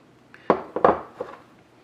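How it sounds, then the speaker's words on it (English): Nuts and raisins being stirred through flour in a bowl for brownies, giving a few soft scraping, clinking knocks in short bursts around the middle, close and fairly quiet, with no talking. "I'm just going to kind of stir them around a little bit"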